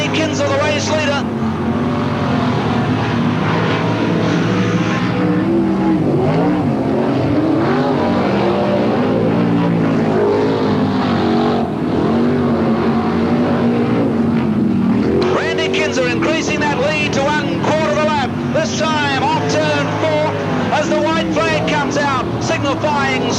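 Race cars roaring around Parramatta City Raceway in 1985, engines droning loud and continuous with rising and falling pitch as they lap, under steady commentary.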